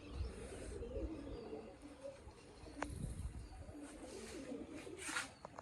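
Soft pigeon cooing in an outdoor setting, low murmuring calls repeating over steady background noise with a few brief rustles.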